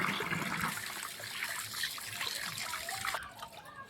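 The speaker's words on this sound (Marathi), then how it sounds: "तर चला मंडळी आता मी हे धुवून घेते सर्व हे खोबरं धुवून आणि वाळत घालते आता." Broken coconut pieces are rinsed under running water, giving a soft, continuous splashing and trickling that stays fairly quiet and close for a few seconds.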